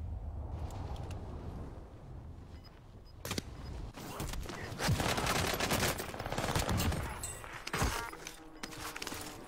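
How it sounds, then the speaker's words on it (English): Gunfire in a video game shooter: irregular bursts of rapid shots and sharp single cracks over a busy background of game noise. Several louder reports stand out near the middle, and no one speaks over it. "They're shooting me."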